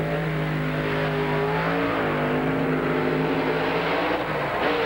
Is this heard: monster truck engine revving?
yes